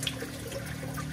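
Reef Octopus Regal 200 internal protein skimmer running at the intake silencer, a steady close watery gurgle and trickle over a constant low pump hum, with no talking.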